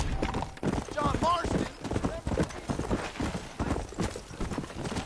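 Horse hooves clip-clop steadily through Red Dead Redemption gameplay, sounding close and rhythmic under continuous talk, with a brief whinny partway through.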